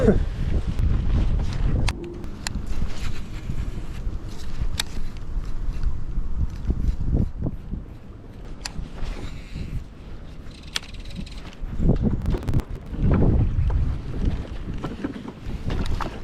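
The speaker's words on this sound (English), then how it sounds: "Oh, it's still pretty windy though." Wind buffets the microphone in steady rumbling gusts, with water sloshing nearby and brief outbursts of speech partway through, while frog fishing over dense vegetation mats at summer's end.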